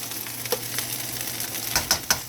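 Rice dumped into a hot pot for Jamaican-style fried rice, scraped and stirred with steady sizzling underneath, a few sharp clanks of the utensil against the pot near the end, close and fairly loud.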